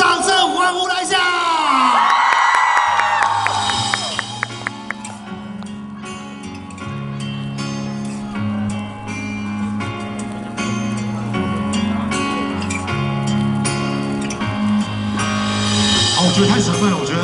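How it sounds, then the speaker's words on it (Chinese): At a fan meeting in Kaohsiung, a concert crowd cheers, whoops and shouts loudly throughout, with music playing underneath and voices occasionally rising from the audience. "掌声欢呼来一下"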